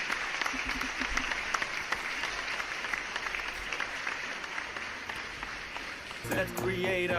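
Applause from a group, a moderate steady patter of clapping that continues through, with a voice and other sound breaking in near the end.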